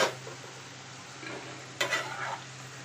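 Ridge gourd with egg frying in a pan on the stove, stirred with a utensil: a soft steady sizzle, a clatter of stirring at the start and a louder scraping burst partway through, close by.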